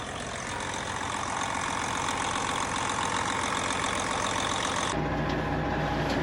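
A repaired truck engine idles with a steady loud rumble up close, changing tone abruptly near the end as the running note shifts.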